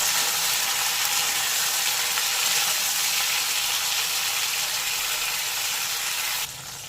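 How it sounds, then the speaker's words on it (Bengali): Okra (bhindi) frying in hot mustard oil sizzles loudly and steadily up close for several seconds before dropping off sharply at the end, with no talking. "ভেন্ডি একটু ভেজে নেব।"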